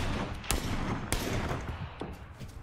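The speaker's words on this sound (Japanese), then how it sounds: "銃声近いね、これ。" Nearby gunfire in an online battle-royale video game: a few sharp shots crack out at intervals over a noisy in-game background, with no talk.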